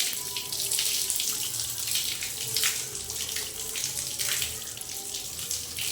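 Water runs steadily from a tap, a close, continuous splashing rush with slight surges, no voices over it.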